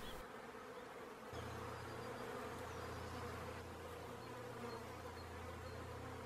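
Wild bee colony living in a tree, heard as a continuous buzzing drone of many bees close by, steady throughout with a deeper hum joining partway in, alone without talk.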